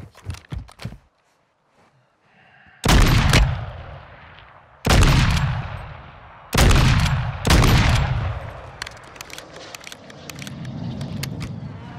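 An MK2 fires in a video game: four sharp, heavy shots spaced a second or two apart, each with a decaying tail, followed by quieter scuffling and movement.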